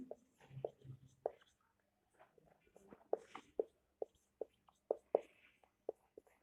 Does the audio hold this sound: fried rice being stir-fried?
no